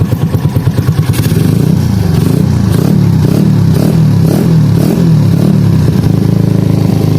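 Jupiter Z motorcycle fitted with an aftermarket big-bore block and a 24 mm CPO carburetor, engine idling then blipped lightly in repeated short revs, loud and close with a steady rattling exhaust pulse.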